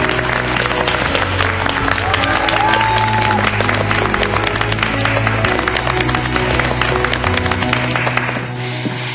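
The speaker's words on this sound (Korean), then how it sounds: "여러분 박수." Studio audience applauding on a Korean TV talk show as a guest is introduced, steady dense clapping held throughout over a bed of loud music, fairly close and sustained.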